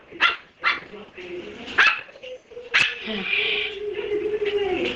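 A small puppy barks in a series of sharp yips and whimpers at close range, with a few separated bursts early on and a longer, wavering whine toward the end, partly under a person talking.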